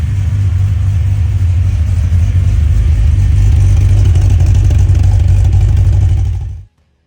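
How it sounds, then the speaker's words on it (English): The engine of a restored Holden Torana LC GTR XU1 runs loud and steady for several seconds as a continuous low drone, then cuts off abruptly into silence. "So now I've got the engine running, I need to fix the issue."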